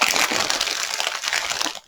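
Tea-bag foil crinkled by hand up close, a dense, continuous crackling rustle lasting a couple of seconds before cutting off.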